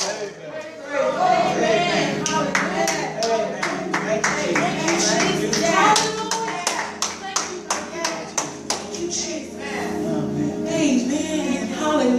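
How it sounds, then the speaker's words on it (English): Congregation clapping hands in praise during a church service, a steady run of sharp claps over music and voices that lasts throughout, fairly loud and close. "Come on and give God a hand clap of praise."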